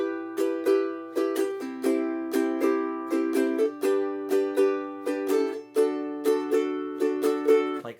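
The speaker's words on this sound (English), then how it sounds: "the island strum is just down, down, up, down, up" Ukulele played in an island strum pattern of down, down, up, down, up, repeated as a steady bright rhythmic strumming of chords with sharp attack on each stroke, close and alone with no talk.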